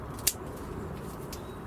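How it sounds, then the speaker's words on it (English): Two quick, crisp snips of scissors cutting through soft stems, a sharp one followed by a fainter one, with quiet room noise between. "I've got my scissors here, so I'm just going to trim the tops off them."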